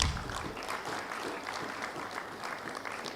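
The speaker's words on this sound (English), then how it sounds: "A big round of applause to all our panelists." An audience applauds at a national social protection dialogue conference, with even, sustained clapping of moderate loudness lasting a few seconds and no speech on top.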